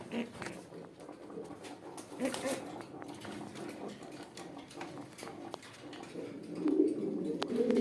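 Pigeons coo steadily at a busy pigeon market near Konabari, Gazipur, with soft overlapping calls and market clatter throughout, growing a bit louder toward the end.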